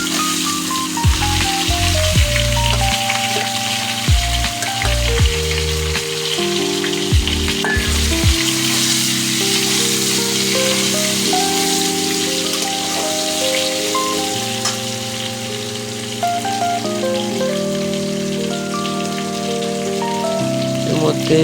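Eggplant slices fry in hot oil in a wok already used for frying fish, a dense continuous sizzle with occasional stirring, heard under background music.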